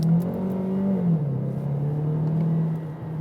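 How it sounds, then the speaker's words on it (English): A Kia Optima PHEV plug-in hybrid with a 2-litre engine and 6-speed automatic gearbox accelerates at full throttle, its engine droning loudly and steadily with a whirring tone that rises briefly and then settles, heard from inside the cabin. "So I'm just going to floor it now."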